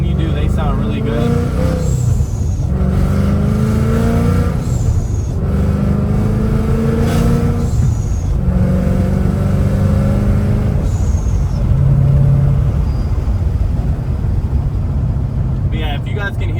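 Ford Mustang GT with an aftermarket exhaust cruising in sixth gear, heard from inside the cabin with all windows closed: a steady, loud low drone with a few rising and falling pitch sweeps as the engine note shifts, continuous throughout.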